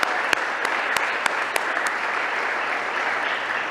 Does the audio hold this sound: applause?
yes